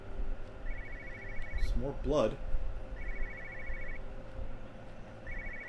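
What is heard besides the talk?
telephone ringing in the video game Everybody's Gone to the Rapture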